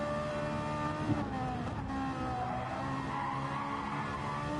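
A Ferrari race car in a racing video game corners hard, with a steady engine drone and tyre squeal under sustained acceleration through the bend.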